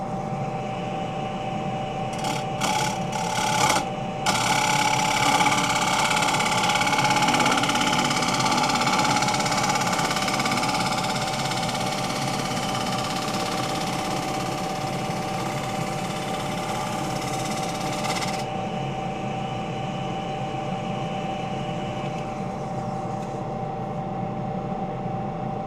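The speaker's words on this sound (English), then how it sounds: "The scraper is flying over the low spots and cutting into the wood on the high ones." A scraper cuts a wet, soft spalted alder bowl spinning on a wood lathe. The motor hums steadily throughout, and a rough, continuous scraping hiss swells over the hum for several seconds before fading back to the motor alone.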